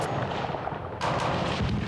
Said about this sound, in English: The day began with gunfire.